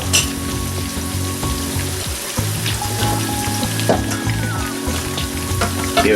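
Steak frying in an oiled pan gives a loud, dense sizzle with crackles, while a low hum and a clatter as the pan is shaken sit beneath it.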